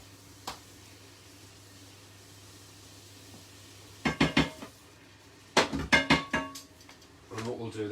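The back of a spoon pressing and spreading chunky homemade pizza sauce in a pan, heard as bursts of metallic scraping and clatter against a faint low hum, with a brief voice near the end.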